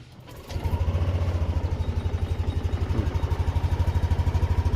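A Yamaha NMAX155 scooter engine starts up and settles into a steady idle, its rapid even thumping pulses close and clear with no talk.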